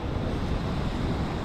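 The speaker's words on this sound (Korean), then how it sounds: "밀어라 파도야" Ocean waves in a continuous broadband wash, steady and close, with wind noise against the microphone and no speech.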